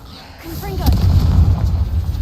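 The Confringo fire-blast spell in Hogwarts Legacy lands as a heavy, rumbling explosion that carries on for over a second, with a short spoken word just before it.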